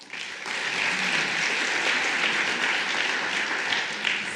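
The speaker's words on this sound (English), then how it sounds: "let's give him a round of applause" Conference attendees at a legal tech startup pitch session at Slush 2018 break into full, dense applause that swells quickly and holds at a steady roar before easing off.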